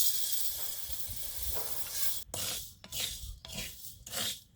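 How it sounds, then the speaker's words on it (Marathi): Mixed lentils dry-roasted with a little oil in a pan: quiet, gritty rasping and scraping as the dal is stirred, rising into several louder bursts of stirring toward the end, with no talk. "सगळ्या डाळी मिक्स करायच्या, थोडंसं तेल टाकायचं आणि डाळी भाजून घ्यायच्या."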